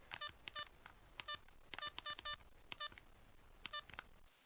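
A telephone number is dialed by keypad, a series of short electronic touch-tone beeps in quick clusters, close and clear with no talking.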